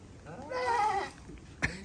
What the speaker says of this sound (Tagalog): Kambing pala rin. Kala ko kalabaw.